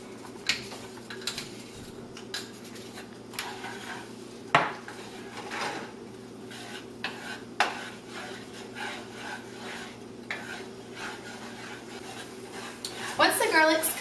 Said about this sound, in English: Now add in 1 tablespoon of minced garlic and stir for about 30 seconds.